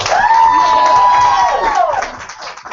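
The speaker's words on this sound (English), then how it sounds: "let's give her a big round of applause" A crowd at a motivational event cheers and whoops with applause, a prominent high whoop sliding over the clapping before it fades.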